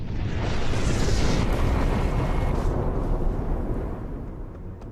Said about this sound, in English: Local people noticed strange lights in the sky, followed by a huge explosion.